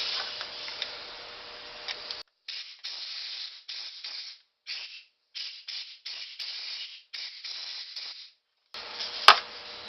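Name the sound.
compressed air sprayed through carburetor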